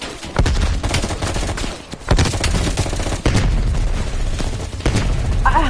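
Dense enemy gunfire in a Call of Duty: Cold War campaign battle, loud overlapping rifle bursts and booming shots rattling continuously for several seconds with no talk.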